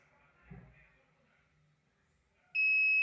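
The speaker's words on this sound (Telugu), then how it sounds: "మనకు అనేది ఫైర్ అనేది టచ్ అవగానే బజర్ అనేది మోగుతుంది" A homemade fire alarm buzzer bursts into a loud, steady high-pitched electronic tone when a match flame touches it, starting abruptly near the end after some quiet handling noises.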